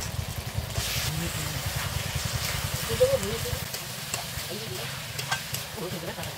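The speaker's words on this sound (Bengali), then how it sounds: "মশলাটা ভালো করে কষানো হয়ে গেছে, এবার মাংসটা দিয়ে দেবো।" Duck meat stirred into fried masala in a pan, a continuous sizzle with scraping stirs and a low rumbling bubble, close and fairly loud.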